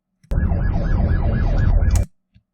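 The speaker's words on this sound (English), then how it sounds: "All these people hear the sirens, see the lights." A police car siren on a high-speed chase after a stolen car in East Cleveland wails in a fast, rising and falling yelp, loud and close, breaking off abruptly after under two seconds.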